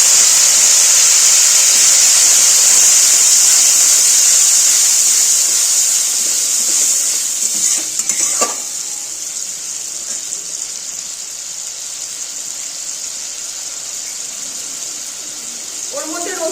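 An onion-garlic spice paste hits hot tempering oil for a Bengali fish-roe curry with potato and pointed gourd, giving a loud, bright sizzle that slowly fades to a softer crackle while someone talks.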